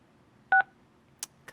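Telephone keypad tones from *6 being pressed to unmute on a public meeting call line: one clear dual-tone beep, then two faint brief clicks, over a quiet line.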